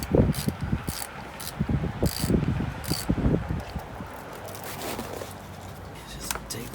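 A 13 mm wrench loosens the ground terminal on a Jeep Grand Cherokee battery, making close, uneven bursts of ratcheting clicks and metallic rattles that settle into quieter handling noise toward the end.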